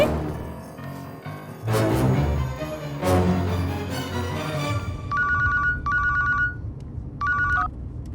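A telephone bell rings in three short, repeated bursts near the end of a scene in a Hindi-dubbed South Indian film, after a louder, busier opening stretch.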